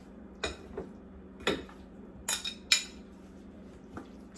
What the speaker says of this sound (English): So let's start off by mixing this all together